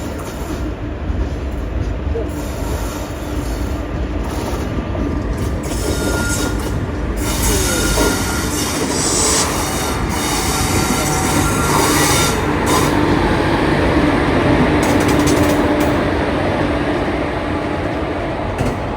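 The Matsyagandha Express from Mumbai to Mangaluru Central rolls into a station, with a loud continuous rumble of wagons, clattering wheels and squealing brakes close by.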